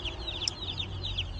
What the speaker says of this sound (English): So these are meat birds